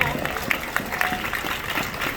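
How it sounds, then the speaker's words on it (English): A polite smattering of golf-clap applause from a convention panel audience at Fan Expo Chicago, a short spell of scattered, moderately loud clapping with voices murmuring underneath. "that was a golf applause"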